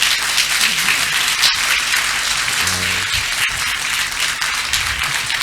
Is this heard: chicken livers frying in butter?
no